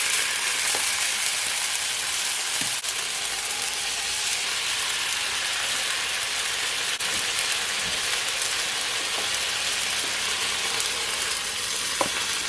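Beef and onion stir fry sizzling steadily in a hot pan as collected liquid is poured in, a loud, continuous frying hiss with faint clinks, no talking.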